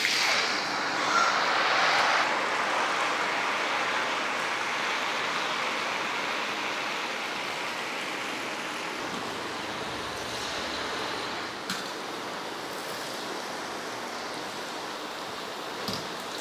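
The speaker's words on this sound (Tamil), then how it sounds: "இன்னும் நல்லா கொதிச்சுட்டு தான் இருக்குது பாருங்கள் எண்ணெயெ பாருங்கள்" Murukku deep-frying in a pan of hot oil, giving a steady, dense sizzling and bubbling hiss that holds throughout with no talking.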